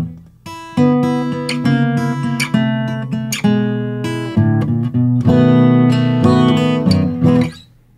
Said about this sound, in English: let me slow this turnaround for you so you can learn how to play it.